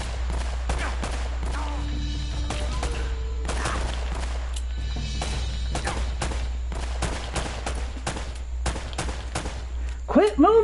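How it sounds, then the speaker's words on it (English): Bursts of gunfire in the video game Uncharted crackle in rapid clusters, some distant and some nearer, with short pauses between volleys and a low steady hum beneath. "I hear gunshots."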